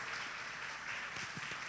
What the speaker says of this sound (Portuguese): Com os aplausos de vocês, o Maicon Souza, ele que é marketing digital